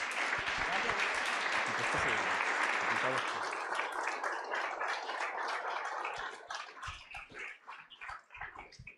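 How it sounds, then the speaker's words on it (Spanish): Audience applause at a DataLab talk in July 2018, a dense, loud burst of clapping from many hands that holds steady, then thins into scattered claps toward the end. "así que por favor otro aplauso"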